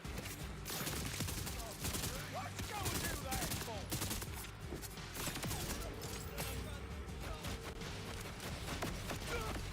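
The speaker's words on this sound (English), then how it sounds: "these turrets are the worst thing in the game" Turret gunfire in Borderlands 4 rattles in rapid, dense bursts with sharp cracks and explosions, continuous and fairly faint within the game mix.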